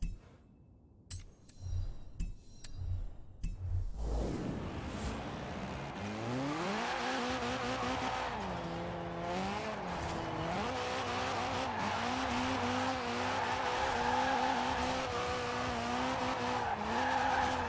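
A car drifting in Forza Horizon 4 with manual shifting and traction and stability control off, tires squealing in a sustained, wavering skid over a steady engine roar after a few clicks at the start.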